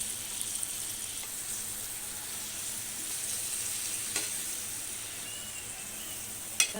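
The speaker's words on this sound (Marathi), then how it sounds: "आता यामध्ये कापलेला वांग्याचं कापू आपण व्यवस्थित परतून घेऊया" Spiny brinjal pieces sautéing in a pan for a dry vegetable dish with dried shrimp (sukat), giving a steady, moderately close sizzle and hiss with occasional faint stirring clicks, and no voices.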